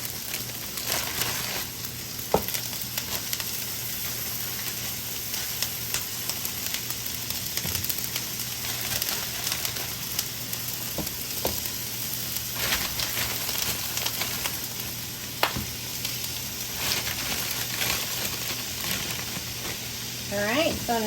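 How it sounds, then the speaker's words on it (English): Philly steak patties sizzle steadily in a skillet over medium-high heat, a continuous frying hiss with occasional sharp pops and crackles throughout. "I'm gonna start placing my little Philly steak patties on there. This is set on a medium-high heat"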